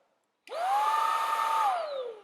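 A Xiaomi Mi Handheld Vacuum Cleaner 1C in standard mode spins up quickly and holds a steady, slightly higher whine for over a second before powering down. No voices.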